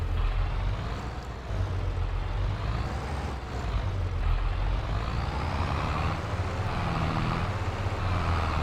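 A tractor hauling a loaded trailer in Farming Simulator 22 drones steadily with a deep, continuous engine rumble, loud and close throughout, with no talking over it.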